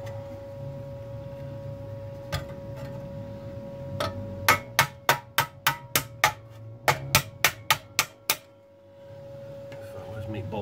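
Sharp metallic strikes from a ball peen hammer on car body metal ring out in two quick bursts of about six and five blows, loud and close over a steady background hum.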